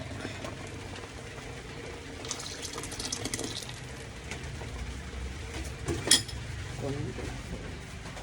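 Liquid poured into glutinous rice in a cooking pot, a soft continuous splash and trickle close by with occasional clinks of metal, fairly quiet throughout.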